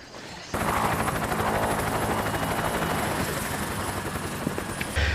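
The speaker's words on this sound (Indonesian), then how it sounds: "Setelah helikopter telah sampai di titik tujuan" A helicopter's rotor thumps in abruptly and loudly after a brief quiet moment, a rapid chopping drone that continues close by.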